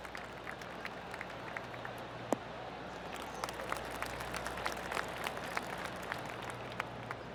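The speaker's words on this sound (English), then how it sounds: "Oh, golf clap." A golf gallery at the Farmers Insurance Open in PGA Tour 2K25 on PS5 gives a light, scattered clap, sparse distant claps and pats over a steady outdoor hum, soft and thin throughout with no talk.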